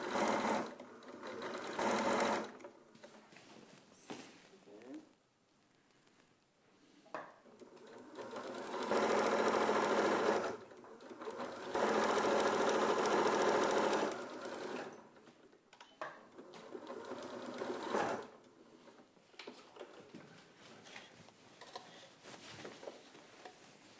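A domestic sewing machine runs a line of stitching along a seam, buzzing steadily in several close bursts with pauses between them.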